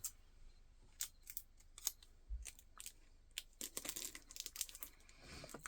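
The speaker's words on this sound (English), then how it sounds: "I even have the little picture hanger, which I am going to tape to the back now" Tape being pulled, torn and pressed down to fix a small picture hanger onto the back of a paper craft frame, heard as quiet, scattered crinkling and snipping sounds in bursts with brief pauses, no talking.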